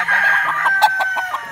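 A pure white Kelso gamefowl rooster at a game farm crows nearby, one drawn-out call breaking into a few clipped, clucking pulses toward the end, loud and alone.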